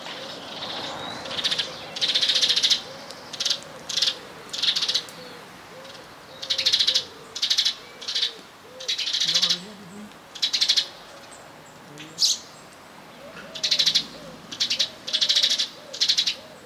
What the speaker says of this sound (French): Et les oiseaux sur le toit qui s'énervent contre les chats, direct.